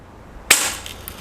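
A Ruger NXG APX multi-pump air rifle, pumped four times and loaded with 4.5 mm steel BBs, fires a single sharp, close crack that decays quickly into a faint ringing tail.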